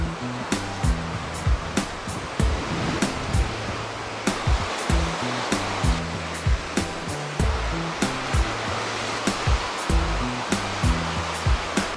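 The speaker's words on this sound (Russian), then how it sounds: "И когда я стала подъезжать и увидела волны, пену, камни." Sea waves breaking on rocks along the Busan coast, a steady loud wash of surf with repeated sharp slaps and crashes in a quick uneven rhythm, no voices.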